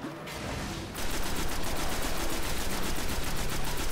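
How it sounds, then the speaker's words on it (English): Rapid automatic gunfire in the video game Destiny, a dense, loud, evenly spaced stream of shots starting after a brief lighter burst and running continuously without voices. "Somebody else is shooting me"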